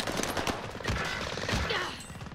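Rapid video game gunfire rattles out in dense overlapping bursts and booms, loud and close, forming a continuous fusillade.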